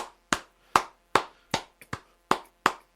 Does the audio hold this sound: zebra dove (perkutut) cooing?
no